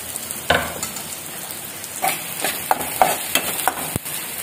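Onions frying in oil in a pan with ginger, garlic and dried chillies, a soft sizzle broken by several sharp spatula stirs and taps close by.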